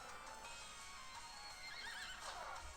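A horse from the video game Miitopia neighs in a clear, shrill whinny that rises and wavers over a few seconds, heard alone and fairly quiet.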